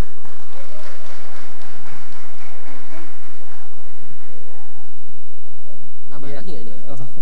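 Audience applause for award winners at the TEBAS 2019 animal welfare awards night, a continuous patter of clapping hands filling the hall, tapering toward the end as a voice speaks.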